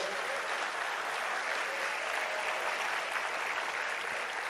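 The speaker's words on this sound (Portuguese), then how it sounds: "Querido, se for aplaudir, aplaude com vontade," Steady, even applause from a church congregation during an evening service, a continuous wash of clapping without voices or music.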